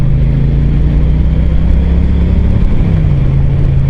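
A Triumph Street Cup motorcycle engine drones loud and close, its low steady tone holding then dipping slightly as it accelerates, with wind rush throughout.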